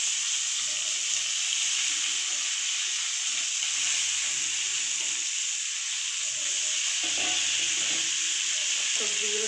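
Cabbage fries in a pan, giving a steady, loud sizzle with hissing steam and occasional stirring clatter, close by and continuous throughout, with no talk.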